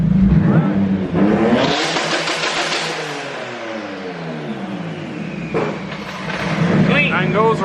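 Turbocharged BMW E36 racecar engine revving hard to its rev limit, a loud close roar climbing and bouncing off the limiter before dropping back toward idle, with people talking over it.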